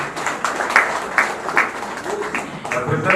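A small gathering at a political alliance meeting claps for a speaker, scattered uneven handclaps with murmuring voices, fairly close and moderate in level.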